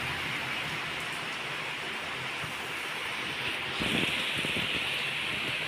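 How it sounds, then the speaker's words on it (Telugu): Heavy rain pours down in a steady, dense hiss that swells slightly louder toward the end. "బాగా వాన కురుస్తుంది"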